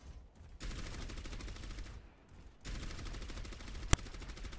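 Orisa's primary weapon in Overwatch fires in two sustained automatic bursts, a rapid, dense rattle broken by a short pause and ending with one sharp crack, heard alone and moderately loud.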